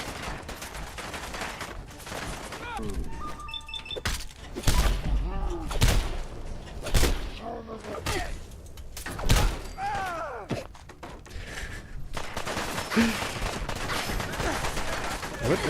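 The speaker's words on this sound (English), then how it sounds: "What are they shooting?" Gunfire in Fallout 4 comes as repeated loud shots and rattling bursts with heavy thuds, spread irregularly across a busy battle soundscape, with some voices mixed in.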